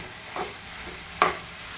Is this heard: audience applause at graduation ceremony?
no